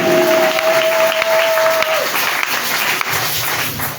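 A church congregation claps together during a worship service, a dense, loud wash of applause holding steady throughout, with a faint sustained tone underneath.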